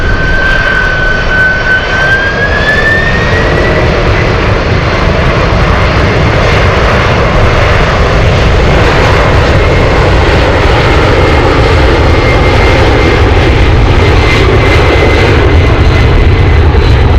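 A Boeing 747 cargo jet at Anchorage airport roars loud and steady throughout, its engine noise dense and unbroken, with a thin whine sliding upward early on and gusty wind adding to the rumble.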